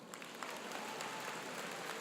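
A graduation audience at Long Reach High School in 2016 applauds, a dense, steady wash of clapping from a large crowd filling the hall at even loudness throughout.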